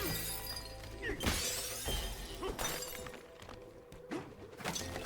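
In Donkey Kong Bananza, glass breaks in a handful of sharp, separate crashes spread over a few seconds, each followed by scattering shards over a low game rumble.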